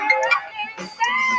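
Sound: phone ringing

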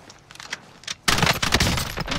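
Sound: gunfire in a video game

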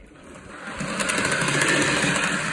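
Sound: Rivarossi HO GG1 electric model locomotive running noise

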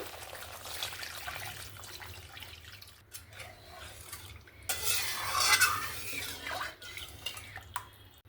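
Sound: pouring water into fish curry and stirring

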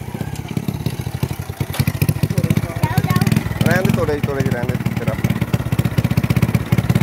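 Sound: motorcycle engine running on a muddy road

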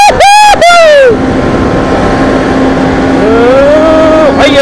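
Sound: Kawasaki Z750 motorcycle engine

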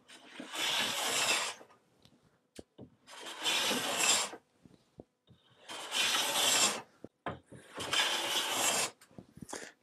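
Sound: hand plane shaving wooden boards of chest

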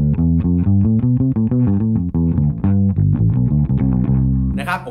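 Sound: bass guitar through amp modeling effect

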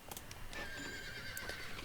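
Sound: Andalusian horse neighing in video game Star Stable

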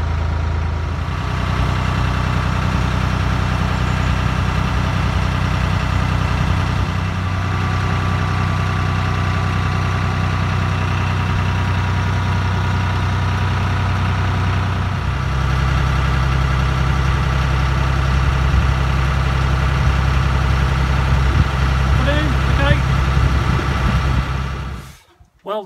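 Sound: narrowboat engine running

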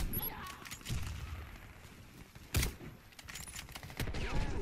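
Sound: gunfire from McMillan CS5 sniper rifle in video game Warface

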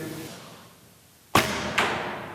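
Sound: arrow shot from a bow hitting target

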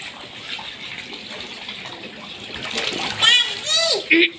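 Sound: water being filled into a home pool, splashing

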